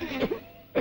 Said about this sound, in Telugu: ఎక్కడిది దగ్గు?